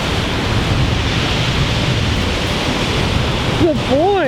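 Ocean waves wash onto a beach as a loud, steady broadband roar with wind buffeting the microphone; near the end a voice calls briefly over the surf.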